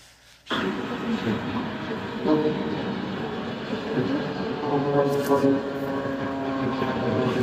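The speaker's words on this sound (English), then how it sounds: "there was a Japan Air 787 that landed in an emergency with the rat deployed" Ram air turbine deployed on a Japan Air Boeing 787 making an emergency landing, a steady loud droning buzz that starts abruptly and holds throughout, with a faint whine near the end and talking under it.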